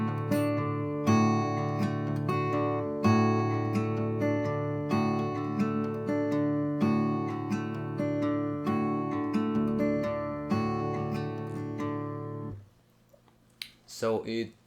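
Acoustic guitar fingerpicking pattern for a song, played with index and middle fingers, rings close and clear as steady repeating plucked notes for about twelve seconds, then stops.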